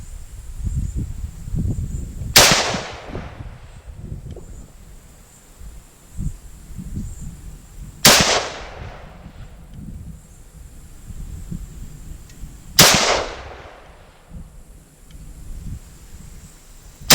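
A Ruger Mini-14 rifle fires Razor Core rounds at targets outdoors, three sharp, loud shots spaced several seconds apart, each with a ringing decay over a low background rustle.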